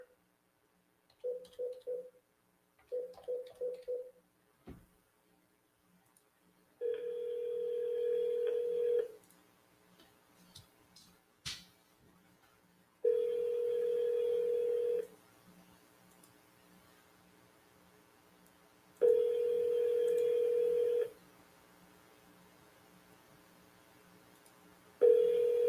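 A phone call placed on a telephone line: short DTMF dialing tones, then several sustained ringback tones spaced evenly with quiet gaps between them, clear and alone.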